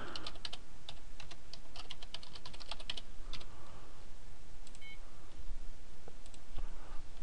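Rapid keystrokes on a computer keyboard while a password is typed during Active Directory user setup, a steady run of close clicks with brief pauses, no talking.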